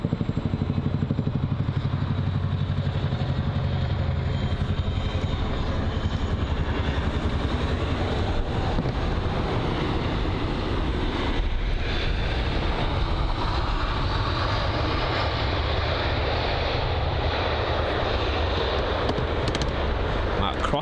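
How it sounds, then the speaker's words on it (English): A Chinook helicopter passes over Heathrow, its heavy, continuous rotor roar and rumble holding steady and loud throughout as voices talk beneath it. "Oh, we've got a Chinook up here."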